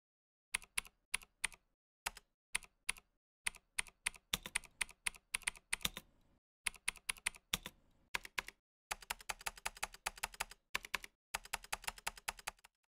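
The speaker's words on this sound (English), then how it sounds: "you can have a mechanical sounding keyboard" Clacky mechanical keyboard typing, close and crisp: quick bursts of keystrokes separated by short pauses, then a long fast run near the end.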